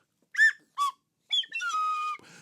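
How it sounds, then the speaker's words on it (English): Slide whistle sound effect: two short rising-and-falling toots, then a longer sliding whistle tone that holds steady before cutting off, clear and alone. "Slide whistle is not appropriate for a diagnosis."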